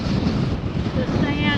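Strong wind near Zabriskie Point, Death Valley, buffets the microphone in loud, rumbling gusts, blowing sand and gravel and roaring steadily with no pause for the whole stretch.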